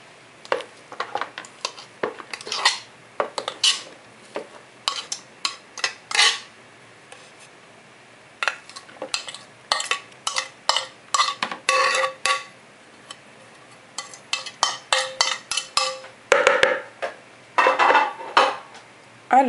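Mashed potato scraped from a masher or spoon into a salad bowl, with many quick clinks and scrapes of metal utensil against dishware in irregular bursts, close and without any talk.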